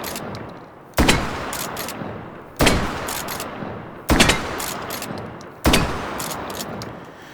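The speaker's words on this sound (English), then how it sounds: "And of course, all these shotguns here are 12 gauge." A 12-gauge shotgun in the video game Battlefield 1 fires four single loud blasts spaced about one and a half seconds apart, each with a sharp crack, a decaying roar and pump-action clicks in between.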